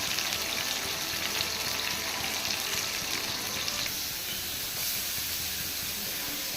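Curry leaves sizzle in hot oil in a pan of frying sardines, a steady close crackling hiss that runs without pause and eases off slightly partway through.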